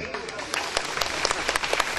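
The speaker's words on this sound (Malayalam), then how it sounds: "ഇവിടെ കൈയടി" A meeting audience breaks into applause, a short burst of dense, close clapping from many hands with a murmur of voices underneath.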